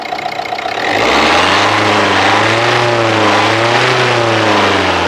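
A 2017/18 Renault Duster RXS engine rises from idle into a loud, sustained rev as the accelerator is pressed, its pitch swelling and wavering while held high, heard close with no voices.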